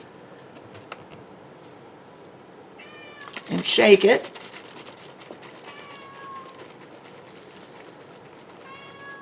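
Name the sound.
cat meowing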